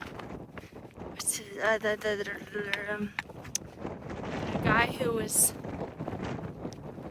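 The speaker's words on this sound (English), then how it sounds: "this is like the windiest conditions I have experienced" Strong gusty wind buffets the microphone on the Franconia mountain ridge, rumbling and surging in waves while someone talks over it.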